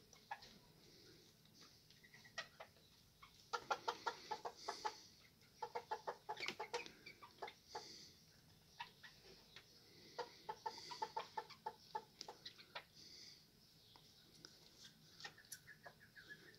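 Small Serama bantam hens cluck up close in bursts of short, rapid clucks with quiet pauses between them. The clucking is clear against a quiet background.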